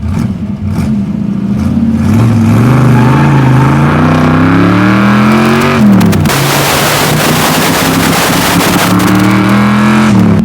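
A 1965 Ford Shelby GT350 driving, its engine loud and close throughout, the tone climbing steadily under acceleration, dipping at a shift, then rising again with a rough, raspy exhaust note.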